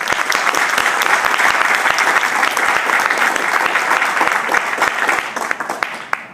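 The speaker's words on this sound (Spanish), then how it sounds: "para quien tiene un fuerte aplauso." Audience at a book presentation breaks into strong applause, dense sustained clapping from a crowd indoors that fades slightly toward the end.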